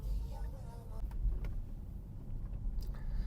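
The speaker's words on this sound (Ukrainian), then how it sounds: "зараз їду не дуже по рівних поверхнях. Ну і чую, як як працьовує підвізка, досить непогано" Low road rumble inside a Tesla Model S Plaid driving over an uneven surface, with faint suspension thumps and knocks scattered through a steady near cabin hum.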